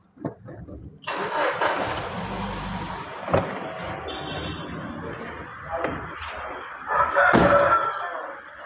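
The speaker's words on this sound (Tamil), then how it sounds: "வண்டி ஸ்டார்ட் பண்ணிடலாம்." A 2006 Ford Fiesta petrol engine cranks and catches, then settles into a steady idle with a couple of sharp knocks and a revving surge near the end.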